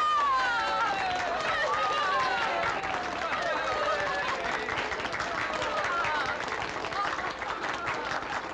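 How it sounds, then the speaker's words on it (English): A welcoming crowd in a wartime French village applauding Madame Claudia Micheline, with dense, sustained clapping and cheering throughout, while people talk over it. "Here's the one they should clap for. Madame Claudia Micheline."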